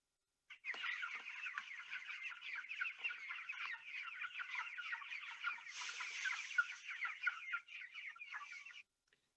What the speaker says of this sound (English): broiler chickens they've just been moved to their fresh grass for the day